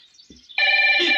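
A telephone rings in a comedy scene from the Tamil film Panchathanthiram: a loud, steady electronic ring begins about halfway through after a quiet stretch and continues to the end, with a brief low thump just before it.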